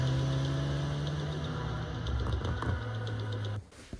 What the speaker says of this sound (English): I'm adding a dramatic song combined with some engine sounds fused in one audio track